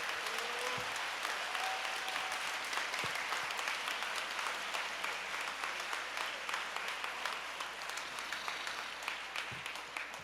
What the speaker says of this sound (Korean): 큰 감사의 박수 부탁드리겠습니다